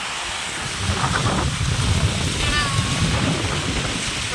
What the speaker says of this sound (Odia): ଝରକା ପଟେ ଦେଖୁଛି ବର୍ଷା ପଡ଼ିଗଲାଣି, କୋଉ ଭଳିଆ ବାତ୍ୟା ହେଉଛି ଦେଖନ୍ତୁ